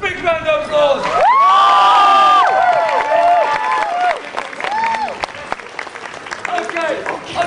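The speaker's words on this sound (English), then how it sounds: "Big round of applause!" A street crowd around a London street performer claps and cheers loudly, with whoops and children's shouts rising over the clapping before it fades into scattered voices and talk.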